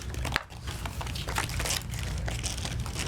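Playing cards are shuffled and dealt for a round of the Pandemic Legacy Season 2 board game, giving a close, steady run of papery riffling and crackling with no clear pauses.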